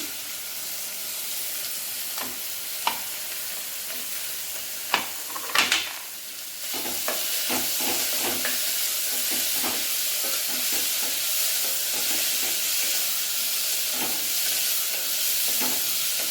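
Tomatoes sautéing in a pan for idli sambar: a few scattered clicks and taps at first, then a steady, close, even sizzle that continues to the end.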